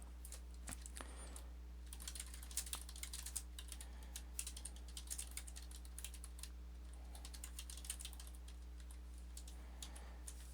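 Quiet typing on a computer keyboard, with irregular bursts of soft key clicks over a faint steady hum.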